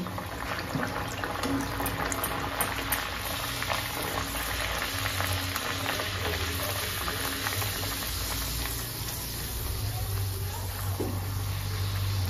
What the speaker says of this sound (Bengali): লুচি সব বেলা হয়ে গেছে, এবার একটা একটা করে তেলে ভেজে নিচ্ছি।